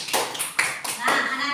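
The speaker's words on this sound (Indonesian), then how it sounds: "Tepuk tangan dulu yuk" Schoolchildren in a grade five Christian religion class clap their hands together, bursts of quick close clapping with the teacher's voice talking over and between them.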